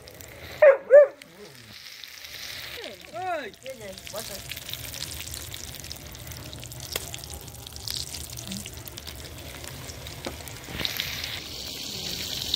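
Tomato chops and vegetable chops frying in oil, a steady close sizzle running through the whole clip, while a person talks and a dog barks briefly near the start.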